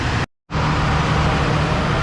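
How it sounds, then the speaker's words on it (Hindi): Generator droning at a Pakistani railway station during a power outage, a loud, steady low hum close by, briefly cut off near the start and then resuming unchanged. "जिस वजह जनरेटर का शोर आपको काफ़ी ज़्यादा सुनाई दे रहा होगा।"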